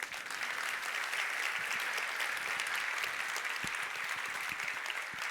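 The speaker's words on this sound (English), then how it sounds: "So let's give them a warm applause." Audience applause at the opening session of the ESCAIDE 2024 conference, a steady wash of many hands clapping that holds evenly across the whole stretch, moderately distant in a large hall.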